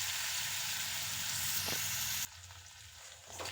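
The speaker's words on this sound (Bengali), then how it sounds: "চিংড়ি মাছটা ভালো করে লাল লাল করে ভেজে নেব।" Prawns fry in hot oil in a kadai, giving a steady close sizzle with a brief stir; the sizzle drops abruptly to a quieter, lighter crackle partway through.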